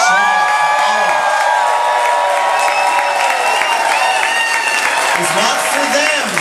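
Audience applause with cheers and whoops fills a party room at the JoCo Cruise farewell party, loud and steady throughout, with a voice carrying over the crowd.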